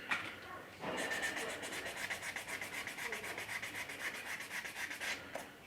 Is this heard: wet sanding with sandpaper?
yes